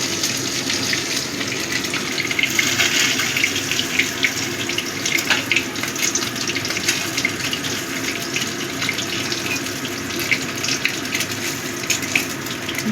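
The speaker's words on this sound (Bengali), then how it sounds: "মাথাগুলো ধুয়ে নেব।" Tap water runs steadily and fairly loud while fish heads are rinsed in a kitchen sink during preparation of a Bengali mourola fish curry, a continuous splashing rush with no voices.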